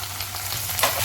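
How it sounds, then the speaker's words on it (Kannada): Chopped tomatoes hit hot oil with onion and ginger-garlic paste in a pan, giving a loud, steady, close sizzle with a brief stirring scrape near the end and no voices. "tomato fry ಆಗ್ತಾಯಿರಲಿ"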